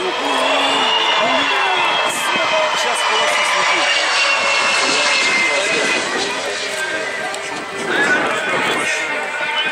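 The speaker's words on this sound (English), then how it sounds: "This fighter jet lands very poorly." Fighter jet landing badly on a runway, a loud sustained roaring engine whine filling the whole stretch, close and steady with a brief surge near the end.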